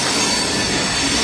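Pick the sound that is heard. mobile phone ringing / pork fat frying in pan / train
train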